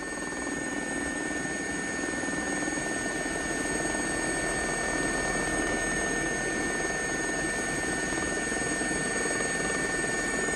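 A JRX Gazelle helicopter in a flight simulator game makes a low, slow flight up a river, its engine whine and rotor drone steady and continuous, with a few faint tonal lines above.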